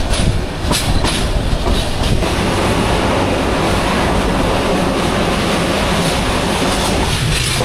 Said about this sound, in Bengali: আমাদের ট্রেন ছেড়ে গেল শমশেরনগর থেকে, এরপর আমরা কুলাউড়াতে গিয়ে থামবো।